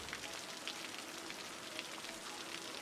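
Steady rain falling in the city-building video game Cities: Skylines, a soft continuous hiss of drops on surfaces at even level with no talk.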